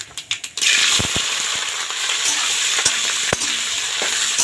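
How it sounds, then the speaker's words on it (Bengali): Nigella seeds crackle briefly in hot oil in a wok before cauliflower pieces go in, setting off a loud, continuous sizzle of frying, close up, broken by occasional clicks of a spoon against the pan. "কড়াইতে তেল দিয়ে দিছি, এই যে কালো জিরা ফোড়ন দিয়ে দিলাম, আর এখন কপিগুলো দিয়ে দেবো।"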